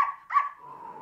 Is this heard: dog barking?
yes